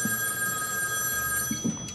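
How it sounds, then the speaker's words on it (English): A telephone rings on a live call-in talk show, a steady electronic ring that runs through the whole moment at moderate loudness, with faint studio noise underneath. "Hey, we got a phone call."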